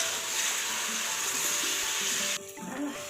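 Onion-garlic spice paste with chili and coriander powder sizzles in a hot pan for a pakora curry, giving a steady close hiss with light stirring that drops away sharply near the end.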